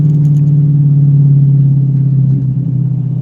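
Race car engine idling and warming up on a track, a loud steady low rumble that dips slightly near the end, with no talking.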